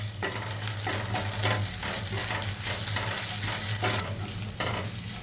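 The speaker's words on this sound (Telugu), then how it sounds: "ఆనియన్స్, కొంచెం కరివేపాకు, కొంచెం అల్లం వెల్లుల్లి పేస్ట్ని వేసుకొని మంచిగా ఫ్రై చేసుకోవాలి" Onions, curry leaves and ginger-garlic paste frying in a pan for mint rice: a loud, dense sizzle that swells and fades with rhythmic stirring strokes, close up, with no voices.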